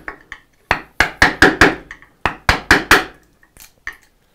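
Mallet blows striking a chisel to chop out an angled dovetail in wood: sharp, close, loud wooden knocks in quick bursts of three to five strikes with short pauses between.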